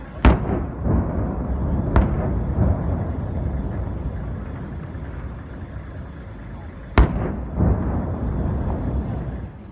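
Road construction blasting in Afghanistan goes off as a few sharp, distant booms spread across a rumbling background, each with a short echoing tail, and two blasts land close together near the end.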